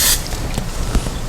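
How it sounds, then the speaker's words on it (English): Short hiss of cooking spray coating a heating pan before tortillas go in, a quick burst at the start followed by faint kitchen clatter. "Now we're going to spray a coat"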